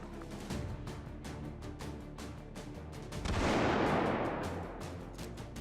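Rapid gunfire in the VR shooter H3VR gives way to a loud booming explosion whose roar swells and slowly fades, with more shots continuing around it.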